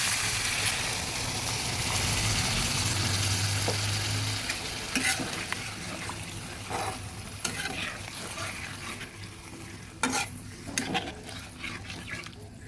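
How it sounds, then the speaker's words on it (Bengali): Water poured into a pan of fried spiny gourd for a vegetarian mustard-poppy seed dish, hissing and sizzling loudly at first, then easing into a softer bubbling simmer with occasional stirring clinks. "এবার দিয়ে দিচ্ছি জল"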